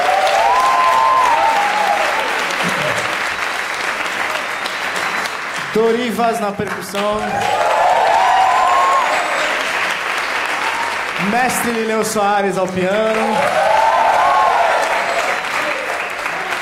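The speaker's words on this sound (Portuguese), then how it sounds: "Uma salva de palmas para o Elton no baixo." Sustained audience applause for the band musicians at a live show, continuing loud throughout while a man announces the players over a microphone in Portuguese.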